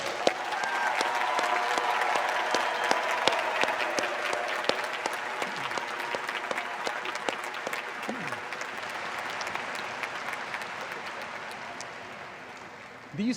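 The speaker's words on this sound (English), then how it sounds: "Please join me in a well-deserved round of applause for their outstanding accomplishments" An audience at a college diploma and awards ceremony gives graduates a long, dense round of applause that holds steady with a few sharper claps and slowly fades toward the end, a murmur of voices underneath.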